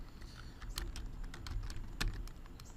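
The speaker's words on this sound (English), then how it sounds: "I hit my caps lock on my keyboard" Clicky keystrokes on a computer keyboard, tapped out in an irregular series of light, close strikes over a soft background hum, with no voices.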